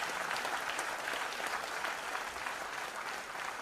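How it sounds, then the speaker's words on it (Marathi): Audience at a book launch for a biography of a celebrated singer claps in sustained, dense applause, even and steady throughout, filling the room without a break. "अशा या श्रीमंत मंचासाठी एकदा जोरदार टाळ्या."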